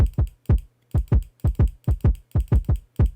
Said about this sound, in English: That's just me clicking the mouse